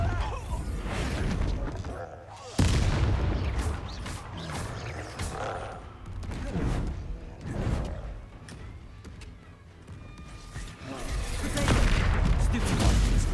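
Bombarda blasting spells go off in the video game Hogwarts Legacy, several heavy booming blasts and crashes mixed with clattering game effects over about thirteen seconds.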